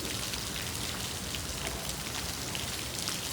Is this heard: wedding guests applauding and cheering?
no